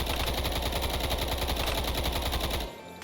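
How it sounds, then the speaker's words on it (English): Dense, rapid automatic gunfire in a modded Minecraft war game, a loud continuous stream of shots for over two seconds that cuts off abruptly near the end. "we're being shot from both sides now"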